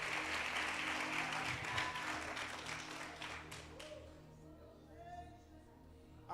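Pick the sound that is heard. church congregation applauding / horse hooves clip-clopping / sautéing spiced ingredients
church congregation applauding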